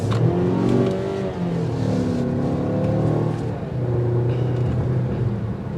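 A 2023 Mazda CX-5 Signature in sport mode accelerates hard, its engine note rising and steady from inside the cabin, with no talk over it.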